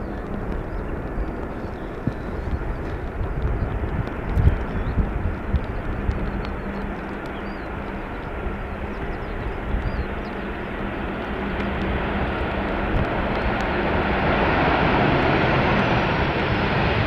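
An El Al Boeing 737 arrives on runway 18R at Amsterdam Schiphol in rainy, windy weather; a moderate, distant jet rumble under wind noise slowly swells louder over the last several seconds.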